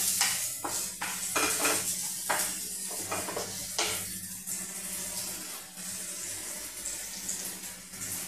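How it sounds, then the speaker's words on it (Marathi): Chili powder frying in a hot pan while cooking Goan chicken 65, a steady close hiss and sizzle with scraping stirs and clinks of a utensil against the pan, no talk. "मातशी तळसून मिरची पावडर घालपाचो."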